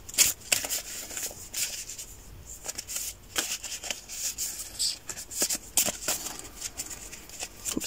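A stack of stationery cards is shuffled by hand: a quiet, continuous run of soft riffling flicks and taps, with occasional sharper snaps and no talking.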